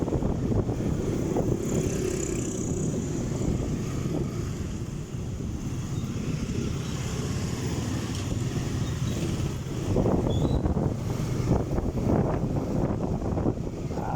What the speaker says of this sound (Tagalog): Grabe yun, lamig ng hangin.